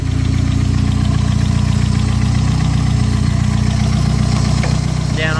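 A Mazda MX-5 Miata engine runs loud and steady at a rough, throbbing idle, with a faint rising chirp right at the end and no clear rev surge.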